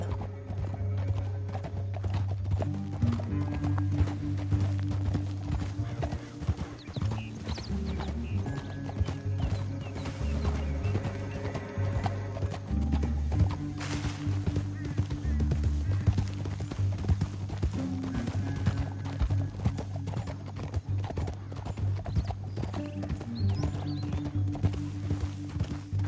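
Horse hooves clip-clopping at a steady gallop with an occasional neigh in the western video game Red Dead Redemption 2, the rhythmic hoofbeats running continuously under layered game music and ambience.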